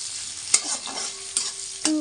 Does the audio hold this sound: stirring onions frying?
yes